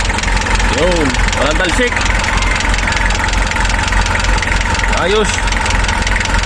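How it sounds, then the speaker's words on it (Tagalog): A 2006 Nissan Urvan van engine idles with a loud, steady mid-pitched drone and even rumble throughout, while someone talks briefly over it. "Ayan makina niya. Naandar na to."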